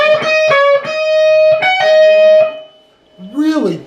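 Distorted electric guitar lick, played close and loud: repeated picked notes with a held string bend, a brief pause, then a quick pull-off phrase; a voice murmurs briefly at the end.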